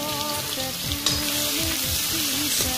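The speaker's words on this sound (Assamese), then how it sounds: "কেৰাহীত তেল দিলোঁ চিম্পুলকৈ বনাম এতিয়া আদা নহৰু দি দিছোঁ তাৰ পাছত এটা কেঁচা জলকীয়া ভাঙি দি" Ginger, garlic and green chilli fry in oil in a kadai, producing a loud, dense crackling sizzle with brief spatula scrapes, near and uninterrupted.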